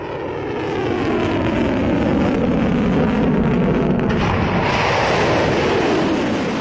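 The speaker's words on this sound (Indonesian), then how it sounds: "TV pemerintah Iran merilis video yang menunjukkan saat serangan rudal dan pesawat tanpa awak terhadap Israel diluncurkan pada Sabtu malam waktu setempat" Iranian missiles and drones launching at night, a loud, sustained roaring rush like a jet or rocket engine that holds steady for several seconds without any talking.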